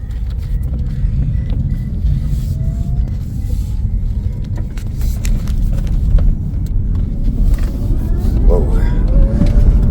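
Mullen GT electric supercar driving on a race track with cold tires, giving a steady low road rumble and hum throughout, with people talking inside the car over it.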